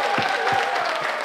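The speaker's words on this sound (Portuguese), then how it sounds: "Uma salva de palmas mais alto!" Audience applause at a Sunday variety show held at a Casa dos Açores, a brief burst of dense clapping with a few louder, distinct hand claps and a voice talking over it.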